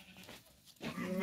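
Sheep and goats for sale on a farm in Alagoas, Brazil, give a wavering bleat that rises loud near the end after a softer, murky stretch.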